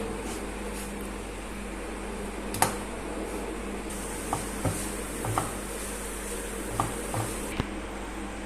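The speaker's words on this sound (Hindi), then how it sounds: "और बाकी का भी हम इसमें डाल देंगे और अच्छे से इसे मिक्स कर लेंगे" A spoon works a milk barfi mixture in a pan, leaving soft scrapes and a few sharp clinks against the metal over a constant low hum of a fan or air conditioner, with no talk.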